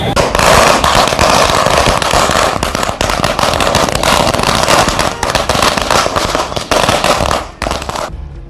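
Firecrackers set off by drinkers celebrating in the Kolar area when liquor shops reopened: a dense, loud, unbroken crackle of rapid bursts, close by, that runs for about seven seconds before a brief gap and a few final pops.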